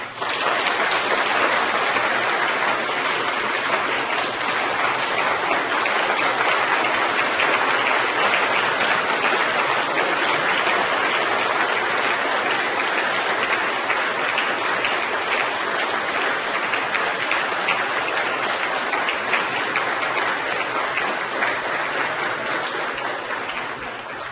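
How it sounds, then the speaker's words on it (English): A large audience at a Durham Reads Together kickoff event in Durham, North Carolina gives sustained, dense applause for Congressman John Lewis, a loud and even roar of clapping that runs unbroken for over twenty seconds. "So please give Congressman John Lewis a warm round of applause."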